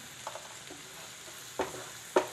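Tomato and green chili sautéing with cauliflower in a pan: a soft background sizzle broken by three or four sharp spatula scrapes and taps, close, the last ones louder, with no talking.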